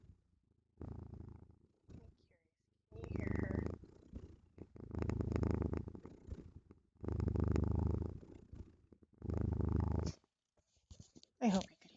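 A pet cat purrs up close in long rumbling bursts, each lasting about a second or two with quiet pauses between, loud and rhythmic like slow breathing.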